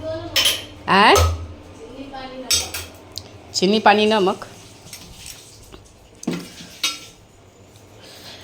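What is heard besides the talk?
puja utensils and spoon being handled and clinking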